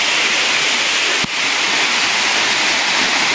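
Dalog Falls, a forest waterfall in Infanta, Quezon, roars as a steady, loud broadband rush of falling water with one brief dip partway through.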